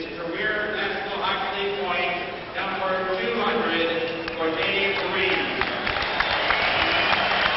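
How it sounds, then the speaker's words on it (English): A hockey arena crowd applauds a Boston Bruins player's 200th career point during a game against the Winnipeg Jets, broad clapping and crowd noise under a broadcaster's continuous commentary. "Dave Reed gets an applause as his assist on Don Sweeney's goal, the one that made it 3-2, was his 200th point."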